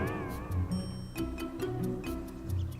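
The Cheshire Cat in Kingdom Hearts Re: Chain of Memories gives a wavering, drawn-out meow, followed by soft ticking and low rumbling game sounds, with no talking.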